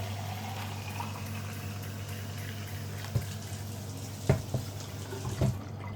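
Water running from a kitchen tap into a pot while cooking; a steady low rushing stream throughout, with a few clunks and knocks near the end, no talking.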